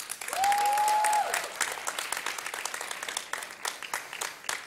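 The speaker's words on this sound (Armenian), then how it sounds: "ծափ" Audience applause at a televised dance gala concert, loud dense clapping that swells over the first seconds, carries a brief whistle-like tone, then thins into scattered claps.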